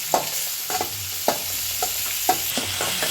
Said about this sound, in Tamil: அதுவும் இதிலே போட்டு நல்லா எண்ணெயில் வதக்கி விட்டுக்கலாம்